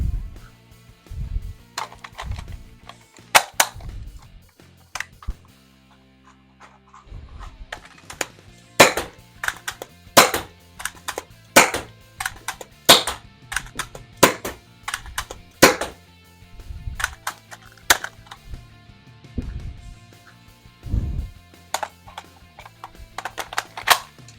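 Dart Zone Max Outlaw toy dart blaster fired with its barrel removed, giving a run of sharp, close clacking shots in an irregular rhythm, with brief pauses between bursts.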